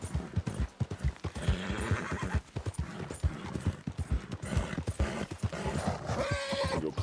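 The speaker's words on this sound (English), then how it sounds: "Mush, little horsey, mush!" A horse whinnies loudly over a busy run of rhythmic hoof clip-clops, the steps quick and close throughout with the neigh rising near the end.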